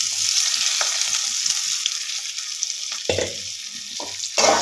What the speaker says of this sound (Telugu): బెండకాయ ముక్కలు ఆయిల్లో మంచిగా వేగాలి.